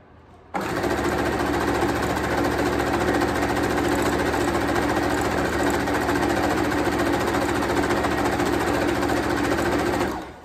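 A sewing machine stitches tulle ruffle onto socks in one steady, loud, continuous run of rapid mechanical whirring that starts abruptly and stops just before the end, with no talking.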